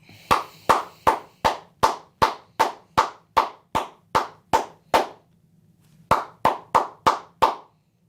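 A single person claps hands in a steady run of sharp, close claps, about fourteen, then pauses briefly before a second burst of six more, with no talking.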